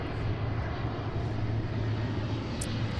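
A heavy international jet from Dubai arriving at Seattle, its engines a loud, steady broadband roar with a low drone, sustained and close throughout.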